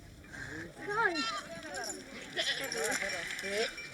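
A flock of sheep and goats in a Maasai village bleats repeatedly. Several overlapping calls come from close by, with a voice speaking over the animals.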